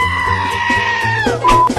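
A voice imitates a sheep, letting out a loud, wavering bleat that rises and holds before breaking off with a quick second cry, close to the ear.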